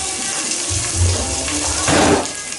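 Cooked broccoli being drained, with a broad steady rush of pouring water that surges louder near the end, close and with no voices.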